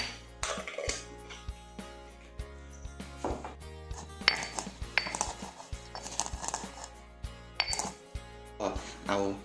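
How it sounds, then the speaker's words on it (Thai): Whole white peppercorns are pounded in a mortar for a Thai jar-roasted chicken. A steady run of dull thuds sounds close, with clinking knocks between the strikes and some background noise. "พริกไทยขาวนะครับ เอาเป็นเม็ดนะครับเรามา โขกนะครับ"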